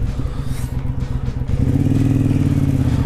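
Motorcycles riding along a road on the way to a lake: a steady low engine drone that swells and grows louder partway through, with no talking.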